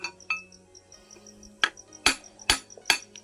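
A hammer strikes a chisel while a fitter works a nut loose from a burnt-out farm motor. Several sharp metallic clinks ring out at irregular intervals, close and loud, with a quiet pause between them.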